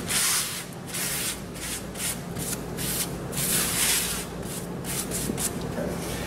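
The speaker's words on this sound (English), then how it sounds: "Just get some of this loose debris and kind of sweep that out." A paper towel sweeps loose debris out of the cavity of a Turbochef High h conveyor oven with continuous, rhythmic rubbing and scraping strokes. The sound is close and fairly steady, with no talk.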